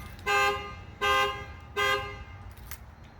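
Three evenly spaced, loud horn-like blasts from a car alarm sound close at hand, each a short buzzy tone, followed by fainter trailing noise and no talking.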